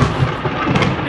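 Thunder during a storm fills the space with a dense, loud rumbling roar that stays steady throughout, with no voices over it.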